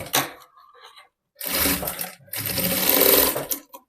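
An electric sewing machine stitches a folded collar strip for a half-collar blouse, a close whirring run in two bursts with short gaps between, alone without talk.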